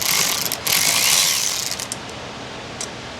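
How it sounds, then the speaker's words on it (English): Oil pan bolts are threaded in on a Chevy Express 2500 6.0 engine, a loud, close rapid ratcheting clatter that runs for a few seconds and then drops to lighter, sparser clicks. "I just need to go around and start threading all these bolts in"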